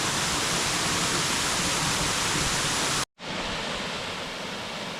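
Russell Falls at Mt Field in Tasmania pours down in a steady, dense hiss of falling water, low in flow in late May. The roar cuts out briefly near the end, then returns slightly softer.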